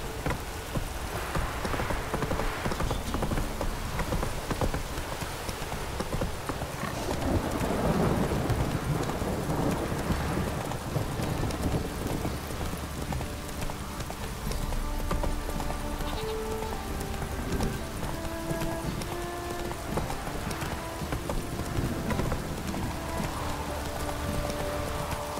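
Roach the horse gallops in The Witcher 3, a steady clip-clop of hooves running continuously over a rainy, ambient backdrop with faint music, no talk.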